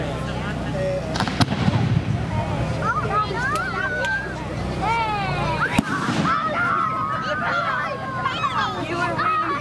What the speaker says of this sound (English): They're letting off a lot of fireworks.